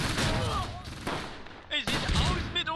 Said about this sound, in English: We're taking fire from another Panzer.